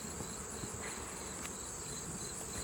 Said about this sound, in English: that's a lovely, lovely frame of the bees taking care of business